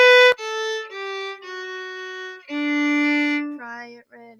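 Measures 9 and 10 of Frere Jacques played on a bowed string instrument: a quick run of faster notes followed by longer held tones, clear and close with no accompaniment.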